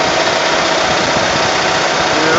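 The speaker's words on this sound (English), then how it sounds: "All from 3-phase power on that little Onan generator right there." A small Onan generator runs on a boom truck, giving a loud, steady, close-up engine drone with a dense mechanical rumble and no breaks.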